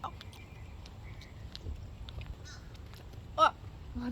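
A bird calls a few times in an outdoor garden setting beside a tree, with a short loud call near the end over faint background noise.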